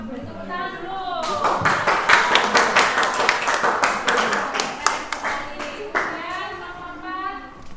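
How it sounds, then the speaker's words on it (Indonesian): A classroom group claps for about five seconds in quick, uneven bursts. Voices talk before and after the clapping. "Beri tepuk tangan dulu."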